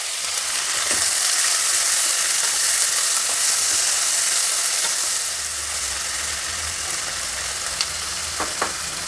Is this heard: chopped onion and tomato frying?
yes